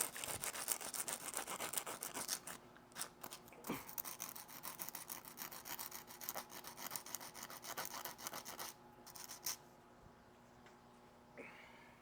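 Quiet, rhythmic rasping of a metal file scraping burred steel on a valve, back and forth in uneven bursts, with brief pauses between strokes.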